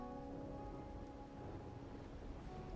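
Steady rain falling in the video game Wuthering Waves, a constant dense wash of drops with a faint low rumble beneath, alone without voices.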